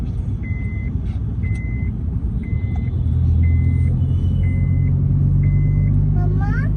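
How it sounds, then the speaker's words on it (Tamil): A steady series of six evenly spaced electronic chimes, a car seat belt warning, sounds over the low rumble of an engine inside a vehicle. "அலாரம் இருக்கிறனால சீட் பெல்ட் போட்டு ஞாபகமே வருது"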